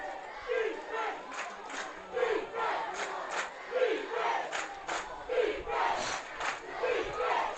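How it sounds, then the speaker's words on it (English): A football crowd at a Chariton versus Knoxville high school game hollers and chants for defense, loud rhythmic surges of many voices rising and falling about once a second, filling the whole stretch. "Crowd hollering for defense"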